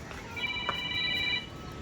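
A telephone ringtone rings in a steady electronic tone for about a second, moderately loud against the faint background of a residential building lobby by a lift in Mumbai.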